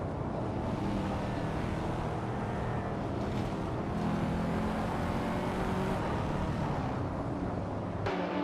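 Race cars in a video game at the start of a race at Queensland National, including a 1989 TVR Tuscan, roar in a dense, steady engine wash that stays loud for the whole stretch with no talk.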